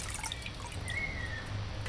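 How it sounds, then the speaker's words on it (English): Beetroot gets a final rinse in water, giving faint, soft trickling and scattered small drips against a quiet background hiss. "Give beetroot final rinse."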